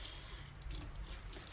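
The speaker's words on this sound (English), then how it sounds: "And it's just gentle, warm water, not too hot." Gentle warm water runs and splashes steadily as a washcloth rinses off a skincare face mask, a soft, continuous, close trickle with no talking.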